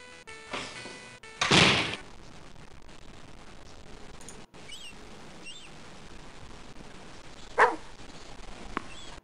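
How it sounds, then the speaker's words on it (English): Dog barking inside the video game Phantasmagoria: a couple of sharp loud barks early on, then one more bark near the end over a quiet room ambience. "Well, I know of a certain hungry dog."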